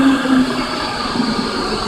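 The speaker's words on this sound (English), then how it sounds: "this is the third train going down" A train goes by nearby in a loud, continuous rumble with a faint humming tone on top, steady throughout with no voices.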